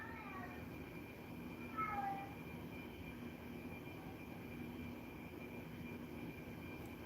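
A cat lets out several strange, drawn-out, demonic-sounding meows and yowls in the first two seconds, close by, over a steady low background hum that continues through the rest of the clip.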